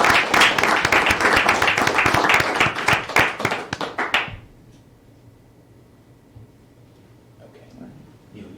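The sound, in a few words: applause for the Gaithersburg city council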